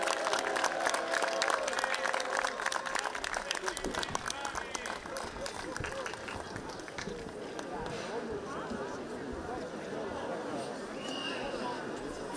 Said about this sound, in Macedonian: поздравете го со голем аплауз кумот за Бадник